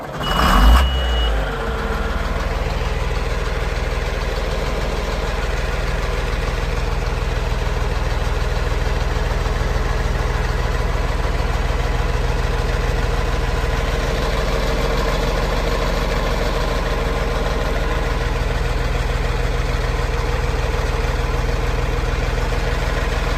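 A 1992 John Deere 4055 tractor's diesel engine cranks and catches, then settles into a steady, close, loud idle that holds without pause and with no talking.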